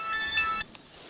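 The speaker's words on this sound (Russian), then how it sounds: "Телефон у вас." A mobile phone ringtone plays a short melodic sequence of bright electronic tones, moderately loud and brief, fading out within about a second.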